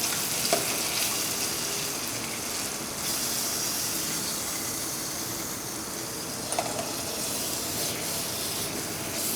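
Onions fry in a pan with a steady, hissing sizzle that runs unbroken throughout, close and fairly even, with a couple of faint clicks and no talking.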